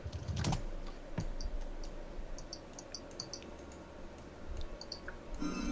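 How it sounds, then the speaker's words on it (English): Computer keyboard typing during a FS/FW versus FS/ST game session, heard as faint, scattered key clicks in uneven bursts beneath a steady background hum, with no talk over it. "is that you typing away?"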